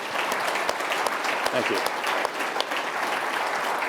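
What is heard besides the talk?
audience applause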